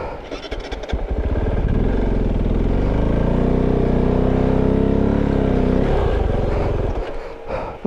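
A Kove 450 Rally motorcycle engine on a rough jeep trail, holding a loud, steady drone with close rises and falls in revs over several seconds, no talking.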